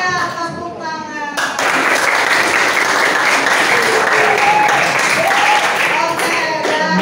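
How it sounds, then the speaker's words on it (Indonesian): A class of children applauding together in a classroom, a dense, loud and steady wash of hand clapping lasting several seconds, with a teacher's voice briefly heard at the start and near the end. "3 tepuk tangan."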